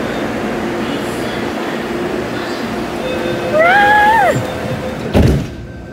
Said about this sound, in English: we'll wait for the train to leave